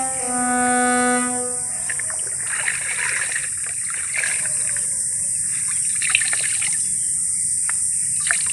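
Water runs and trickles as a container is filled, a steady splashing flow that follows a brief tonal sound at the start, with faint background noise.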